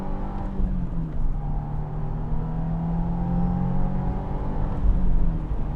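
A 2025 Subaru WRX tS accelerating hard in first gear, its engine note climbing steadily toward redline as a loud, continuous, close-up rising drone that swells slightly near the end.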